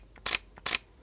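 Mechanical shutter of a Sony A9 Mark II camera, two quick crisp clacks about half a second apart, close and alone.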